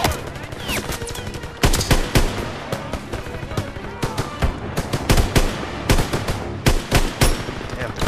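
Rapid bursts of gunfire from a World War II era shooter, Call of Duty WWII, crackling loud and close in dense, continuous volleys with heavy recoil, dense battle noise filling the whole stretch.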